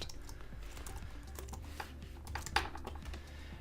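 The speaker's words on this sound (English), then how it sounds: "So I'm going to type in I command," Rapid, uneven clatter of keys as code is typed on a computer keyboard, close and fairly quiet, with short pauses between bursts and no talking.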